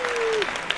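A short burst of dense crowd applause used as an added sound effect, loud and continuous, with a thin descending whistle-like tone gliding through its first half.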